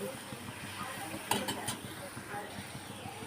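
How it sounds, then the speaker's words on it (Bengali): Luchi frying one at a time in hot oil, a steady close sizzling hiss with a few louder crackles partway through, murmured voices underneath. "একটা একটা করে লুচি ভাজছি"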